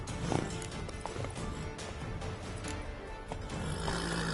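Steady clip-clop of horse hooves at a gallop, with a brief whinny near the start, over a constant ambient background, from the video game The Witcher 3: Wild Hunt on PS5.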